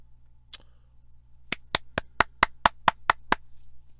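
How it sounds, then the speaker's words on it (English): One person claps hands, with a lone clap followed by eight crisp, evenly spaced claps in a quiet indoor room. "There's my pity clap"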